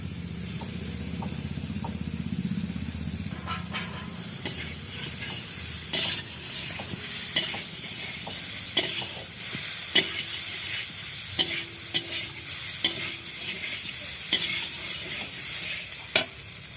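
Chicken hits a pan of spiced masala and fries with a steady sizzle, broken by repeated scraping clicks of a spoon stirring at an irregular pace.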